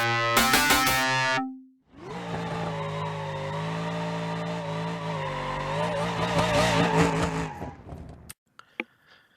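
An old circle-track race car with big-block power in BeamNG.Drive, loud and close: a short burst of engine noise, a brief gap, then a sustained, wavering engine drone that rises and falls before cutting off abruptly, with a few faint sounds after.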